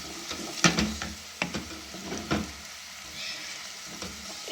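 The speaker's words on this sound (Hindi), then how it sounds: "इसको भूनूंगी।" Ginger garlic paste sizzles in a pan with lightly golden onions, a steady frying hiss broken by several sharp scraping stirs.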